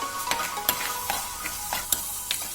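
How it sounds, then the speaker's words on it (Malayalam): Crushed garlic and ginger frying in a pan for squid roast, a light sizzle under quick, irregular spoon scrapes and taps as it is stirred, close and quiet with no voices. "ഇനി നമുക്കിത് നന്നായിട്ടൊന്ന് ഇളക്കി കൊടുക്കാം"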